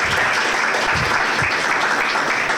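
An audience claps at an educational results ceremony for students with sensory disabilities: steady, dense, even applause throughout, close and loud, with no speech.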